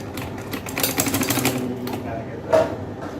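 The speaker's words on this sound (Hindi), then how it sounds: "इस तरह से आपने सारे प्लेट्स को ऊपर की तरफ रुख इनका करते जाना और इनको सिलाई लगाते जाना है सेंटर में" A sewing machine runs in a quick rapid burst stitching pleats down the center of a trouser hem design, a close mechanical chatter for about a second with a voice talking over it.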